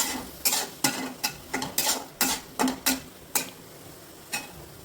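A spatula scrapes and clacks against a metal wok while stirring capsicum and tomato, in quick, irregular strokes, about a dozen close, sharp hits with brief gaps between them.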